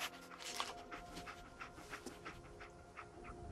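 Dog panting in the Fallout 4 video game: quick, steady breaths, close and faint, with no speech over them.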